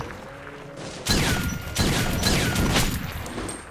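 Gunfire in the video game Metro Last Light Redux: loud, dense bursts of shots start after a quiet second and continue for several seconds, with a brief dip near the middle and no talking.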